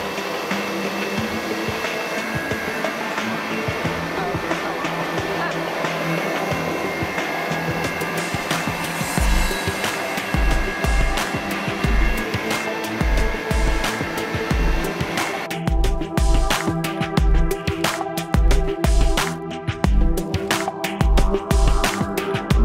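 A machine milling a custom MOA rock crawler chassis plate, a loud steady whine with a strong hum that later turns into fast rhythmic low thumps and chatter as the cut continues, with no voices.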